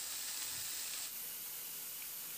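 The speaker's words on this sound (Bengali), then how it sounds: "এবার মশলার সঙ্গে কয়েক মিনিট একটু রান্না করে নেব নাড়াচাড়া করে" Grated papaya cooking with spices in a hot pan gives a steady, moderately loud hiss and sizzle with no voices, easing slightly partway through.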